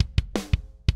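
Kick drum processed with a compressor, EQ and a transient shaper for added attack in a rock mix, punchy solo thumps in a steady beat with a brief snare-like hit between them.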